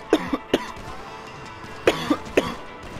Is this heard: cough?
yes